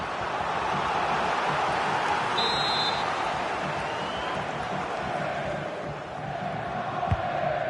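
A football stadium crowd roars steadily at a Manchester City match against Dortmund, a dense distant wash of cheering and chanting that never lets up, with a brief whistle-like tone.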